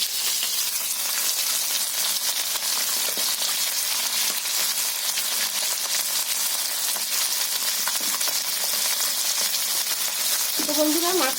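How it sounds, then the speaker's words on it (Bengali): Small koi fish fry lightly in a pan with a steady, dense sizzle that holds evenly for the whole stretch, close and fairly loud, with a brief low knock near the end. "ওই জন্যই আমি হালকা করে ভেজে করছি বন্ধুরা"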